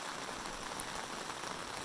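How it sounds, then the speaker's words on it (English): Rain falls steadily on a hiking trail, a dense, even hiss of drops, soft and continuous with no talking over it. "It's the rain."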